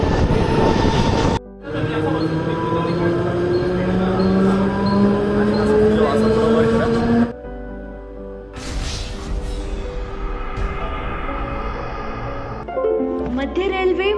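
A Mumbai suburban local train runs from Bhandup toward Chhatrapati Shivaji Maharaj Terminus, its loud rumble and squealing wheels rising in pitch, then easing and screeching as it slows, with voices and an announcement-like sound under the noise.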